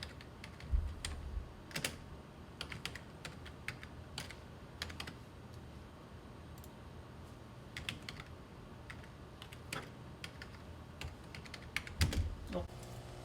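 Fingers tap a computer keyboard in quiet, irregular bursts of clicks with short pauses between, faint and close, with a few louder keystrokes standing out.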